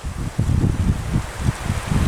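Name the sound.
gusty wind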